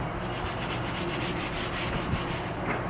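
Steady, continuous rasp of sandpaper rubbed across wood while building an amplifier enclosure. The strokes are close and even, run through the whole clip without pauses, and no one speaks.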